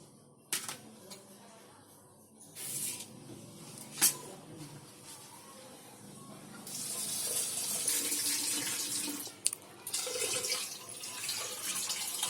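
Lentils (dal) being rinsed under a running kitchen tap, with soft streaming water and intermittent splashes, swishes and clinks of the pot as the grains are washed, fairly quiet and close, no talking.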